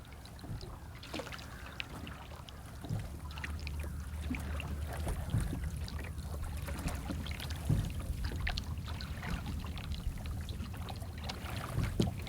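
Drake rowboat rowed across water on a morning outing, with soft steady splashing and trickling of oars and hull, gentle water lapping close by under a faint breeze, no voices.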